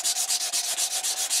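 Rhythmic back-and-forth sanding, sandpaper rasping on a wooden stick-tang knife handle in quick, even strokes about six per second, close and loud with no talking.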